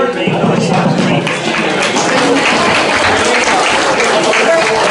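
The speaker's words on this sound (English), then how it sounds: "Round of applause again for everybody." Dense, steady applause from a crowd fills the whole stretch, loud and continuous, with some voices mixed in.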